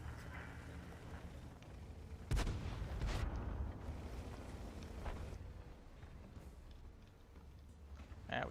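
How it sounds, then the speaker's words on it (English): Artillery fire in World of Tanks, played in a Russian T-43 tank, sounds as a distant heavy boom followed by a second crack and rolling rumble over a steady low engine drone. "Artillery."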